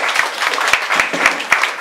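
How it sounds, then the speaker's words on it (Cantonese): A brief burst of steady applause from a crowd, many hands clapping at once, at a 2010 Hong Kong Legislative Council by-election candidates' forum. "好，俾掌聲。 1號梁國雄"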